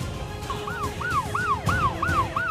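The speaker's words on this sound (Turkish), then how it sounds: "Ambulans geldi." An ambulance siren wails in fast rising-and-falling sweeps, loud and nearby, over rumbling traffic.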